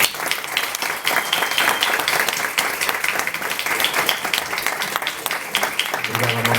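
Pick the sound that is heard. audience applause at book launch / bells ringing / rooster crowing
audience applause at book launch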